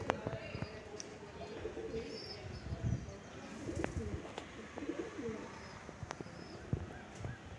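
Madrasi pigeons coo in low, repeated rolling notes, fairly distant, amid scattered clicks and clatter in a busy background.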